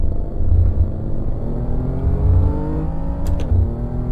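A BMW M3 in the Assetto Corsa racing game revs steadily, its engine note climbing and falling through gear changes with a loud, continuous drone and no voices.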